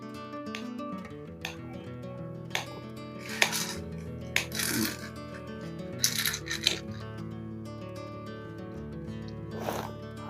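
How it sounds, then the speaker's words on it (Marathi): A knife cutting garlic in a village kitchen, with a small cooking stove, gives a scattering of sharp, irregular taps and clicks against a board. The hits sit over a continuous tonal background hum. "लसूण कापते"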